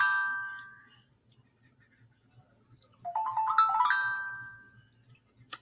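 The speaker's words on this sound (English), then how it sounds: "Okay, phone, stop." A phone rings softly with a short chiming tone, pauses in near silence, then rings again louder with a bright melodic trill, ending with a faint click.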